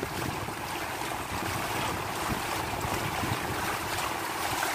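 Floodwater rushes steadily across a national highway in Quinapondan after a night of rain, a broad, continuous wash of turbulent water with wind buffeting the microphone throughout.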